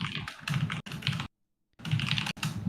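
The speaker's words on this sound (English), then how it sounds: "That keyboard is like blaring in my ears." Loud, fast typing on a computer keyboard, close to the microphone, in dense bursts of clacking keys with a half-second pause midway.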